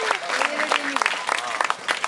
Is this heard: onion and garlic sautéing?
no